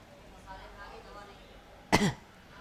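A single short cough, sharp and close, breaking through faint background murmur near the end.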